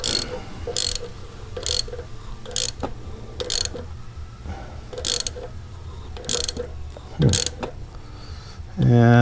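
A hand ratchet clicks in short bursts as an oxygen sensor rethread tool is turned back and forth and tightened in an exhaust bung, metallic ratcheting repeating at close range over a low background hum.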